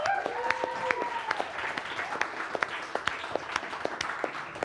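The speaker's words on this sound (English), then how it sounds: "a round of applause for our Hexmaster, Galivor" Audience applause for a champion at a live fantasy game show event, steady clapping throughout with sharp individual claps over a broad crowd wash, with some overlapping speech and a brief tonal sound early on.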